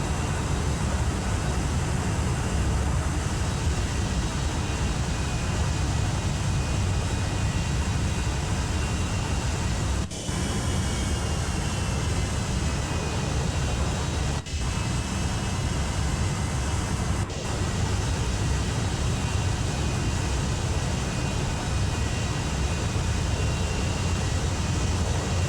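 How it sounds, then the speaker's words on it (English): Steady, loud broadband jet roar of an F-18 aircraft flying in the naval combat game Sea Power, a continuous sustained engine rumble with a faint high whine, unbroken for the whole stretch apart from a few very brief dropouts. "It's going to be another F-18 going home."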